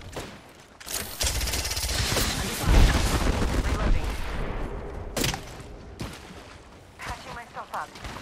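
Gunfire in an Apex Legends Arena match with the player under fire: volleys of shots and impacts near and far, loud bursts separated by quieter gaps, with voice lines over them.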